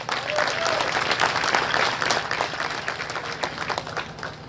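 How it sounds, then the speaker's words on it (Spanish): A crowd at a public event marking increased gas production at Incahuasi claps for a mayor, a brief burst of applause with some cheering and voices mixed in, tapering off. "Un aplauso para el hermano alcalde."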